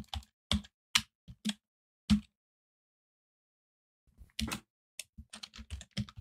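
Keystrokes on a computer keyboard tap out in sparse, crisp bursts, a few isolated clicks followed by a pause and then a quicker cluster of typing, close and quiet.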